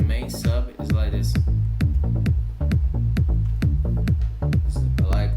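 Layered electronic sub bass made in FL Studio, a deep rolling bass line driven by steady kick-like hits under a busy beat, loud and continuous from start to finish.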